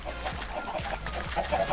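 Several chickens cluck in Minecraft, short repeated clucks close by over a low steady game background, no voices.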